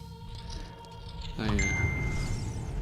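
A phone notification chime rings out over a video game's background music, a bright clear tone repeating a few times after a quieter opening, with faint voices underneath.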